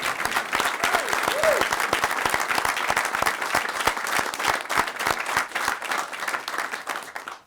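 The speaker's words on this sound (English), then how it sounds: "we can clap for that." An audience claps steadily and fairly loudly at a Georgia governor's speech announcing a Senate appointment, a dense sustained applause with a faint voice briefly underneath.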